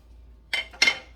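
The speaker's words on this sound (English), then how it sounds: "I'm going to get a spatula to break up this meat" A spatula scraping and breaking up ground meat in a pan, two short metallic scrapes about a quarter second apart, close and fairly loud against a quiet kitchen.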